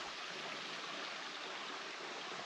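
Mountain stream flowing steadily along a backpacking loop trail, a constant rushing hiss of water close by, fairly soft and unbroken, with no voices.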